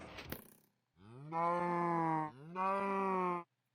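Two long, loud mooing calls from cows in Minecraft, one after the other, following a short burst of noise at the start.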